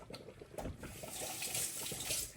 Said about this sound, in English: I'm gonna rinse out my pan real quick